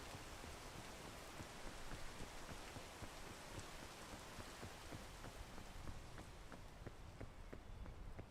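Steady rain hisses through a video game scene, with dense pattering drops and faint rhythmic footsteps running beneath it throughout.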